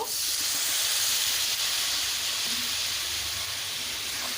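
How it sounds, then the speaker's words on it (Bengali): Water hits potatoes frying with soybean chunks in a hot pan, setting off a loud, steady sizzling hiss that fades slightly toward the end. "এবারে সামান্য জল দিয়ে আলুটাকে কষে নেব"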